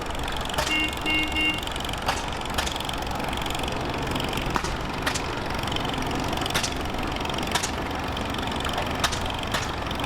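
A 1941 Farmall H tractor runs at a steam and gas threshing bee show, its engine giving a steady, continuous drone with faint periodic clicks, moderately loud and close, with no talking.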